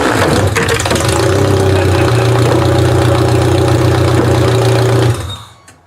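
A Toyota Camry engine runs loud and steady for about five seconds with a low, rough idle hum, then is abruptly cut and fades out.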